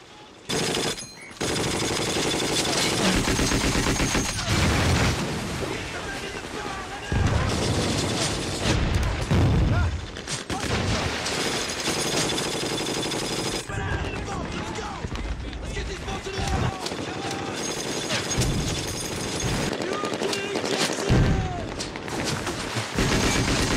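Machine guns fire through the night in a Second World War film, with rapid loud bursts and booming blasts running on and off under a speaking voice.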